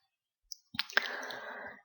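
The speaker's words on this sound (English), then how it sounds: "Go select all by clicking on this little icon down here." A computer mouse clicks to select an on-screen icon: a tiny faint tap, then a couple of quick close clicks trailing into a brief soft rattle, quiet and isolated.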